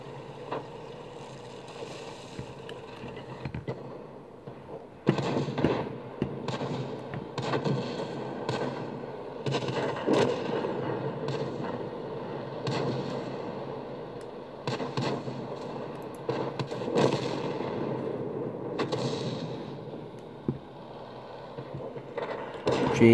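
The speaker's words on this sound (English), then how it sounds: "Arty should never move during the battle, but I'm doing so that I can get some good shots off." Self-propelled artillery firing in a tank battle game while the vehicle moves, repeated sharp bangs spaced a few seconds apart over a steady engine rumble.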